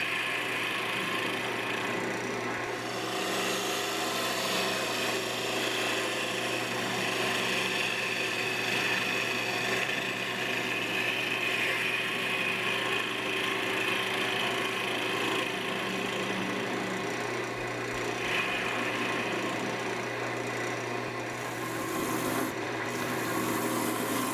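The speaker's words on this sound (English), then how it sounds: "I'm just hollowing out the inside of the lid a little bit with my bowl gouge, the Ellsworth grind" A bowl gouge with an Ellsworth grind hollows the inside of a locust wood lid spinning on a lathe, giving a steady close scraping and rubbing hiss over a low motor hum, continuous with no talk.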